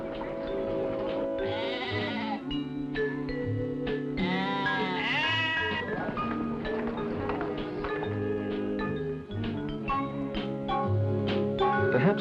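Sheep bleating in New Zealand, repeated wavering bleats layered over continuous music that fills the whole stretch, the animal calls partly buried in the score.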